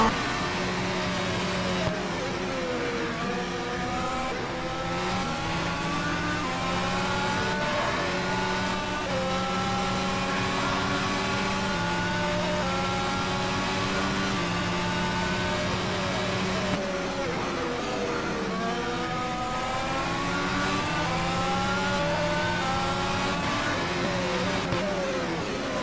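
Formula 1 style race car engines from rFactor at Barcelona wail continuously, with rising and falling pitch sweeps as the cars accelerate, shift and brake through corners, loud and steady across the whole stretch.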